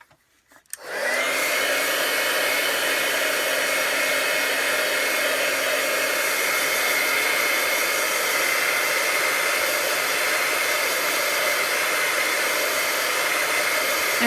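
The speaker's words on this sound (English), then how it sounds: "so I'm going to heat it with my heat tool." Craft heat tool drying paint on paper, switched on after a brief click and then blowing a steady, loud whoosh of hot air with a constant motor whine.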